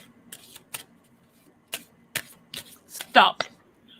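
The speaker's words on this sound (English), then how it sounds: "tell me when to stop shuffling" A deck of playing cards is shuffled in a series of sharp, uneven riffles and flicks, quiet gaps between them and one louder burst near the end.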